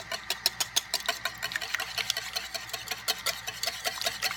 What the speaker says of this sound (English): So again, we're just whisking the wet ingredients together.